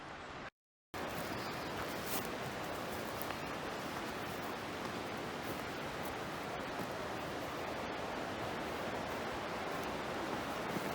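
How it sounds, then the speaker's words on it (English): The Dosewallips River rushes out of sight beyond trees in Olympic National Park, a steady broadband roar of flowing water, constant and fairly distant, after a brief dropout at the start. "I believe the Dosewallips River is just through those trees, because I can hear it"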